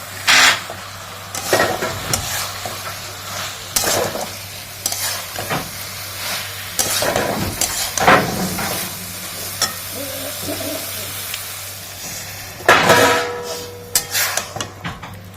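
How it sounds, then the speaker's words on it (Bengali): Gourd curry with lentil fritters being sautéed in a pan, with repeated spoon stirring and scraping strokes over a steady sizzle, fairly close and loud, no voices. "এটাকে এখন কষবো, কষতে কষতে তেল বেরোবে, তবে জল দেবো। দিচ্ছি বড়াগুলো"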